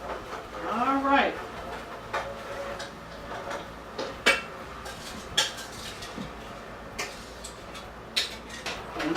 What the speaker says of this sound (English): And now I just keep stirring.